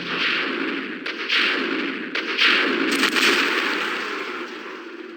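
Rocket launcher fire in a Resident Evil game, a run of heavy booming blasts with rolling echo, several loud hits spaced about a second apart over a sustained roar, with no talking.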